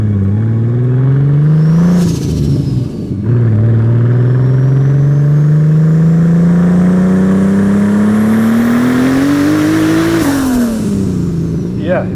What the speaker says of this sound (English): we're currently driving in my Mk4 GTI that has been retrofitted with a VR6 motor that's turbocharged